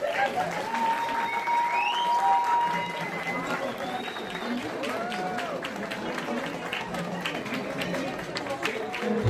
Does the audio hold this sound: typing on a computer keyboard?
no